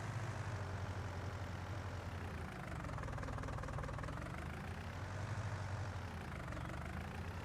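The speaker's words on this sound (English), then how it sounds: "They always give you this tractor at the start, and I hate it." A tractor engine in a farming video game idles and runs steadily, a low rumbling drone with a slight knocking throb that holds constant throughout, with no talking.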